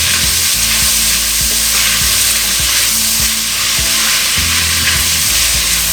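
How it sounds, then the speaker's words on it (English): Sausage sizzles steadily as it fries in a pan, a dense continuous crackle with a low rhythmic thumping underneath, loud and close with no talk. "Alright, we're going to throw our sausage in there."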